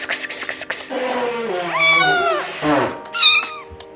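A cat meowing close by: a few short calls, then longer, drawn-out wavering meows, loud and clear.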